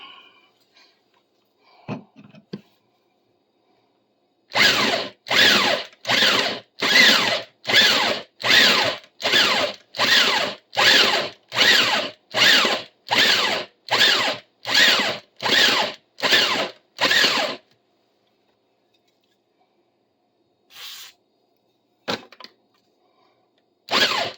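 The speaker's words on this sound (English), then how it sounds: "WD-40 acts as a cutting fluid, cooling the metal and cooling the blade as it goes through." A power saw blade cuts through metal lubricated with WD-40 as cutting fluid, in a burst of about fourteen loud, evenly spaced rhythmic strokes lasting some thirteen seconds, with quiet gaps and a few faint knocks before and after.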